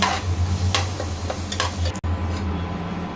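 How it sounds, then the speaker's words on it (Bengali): Prawns frying with ginger-cumin paste and turmeric while being stirred, a dense close sizzle with a low steady hum and a few scraping stir strokes, cut briefly by a sharp click near the end. "আবার নাড়তে থাকবো আদা জিরা পেস্ট দিব আবারও কষাতে থাকবো"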